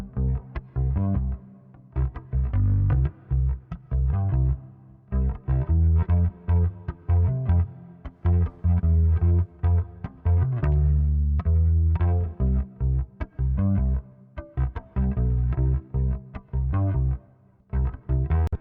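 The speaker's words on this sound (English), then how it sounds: "This reverb is so sexy. I want to just see what it sounds like on the top end." A music mix plays with a lush reverb from a free plugin on it, dense rhythmic hits and sustained tones blooming into a wide, washy tail, loud and continuous throughout.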